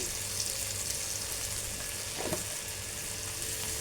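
Liver sizzles steadily in a hot pan with red chili and cumin, a constant close frying hiss with a brief scrape of stirring midway.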